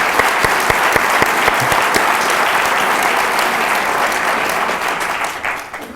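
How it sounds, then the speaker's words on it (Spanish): Sustained audience applause for a guest scientist at a talk event, a dense, steady wash of clapping at full strength that tapers slightly toward the end, with no voices over it. "Este aplauso es para ti."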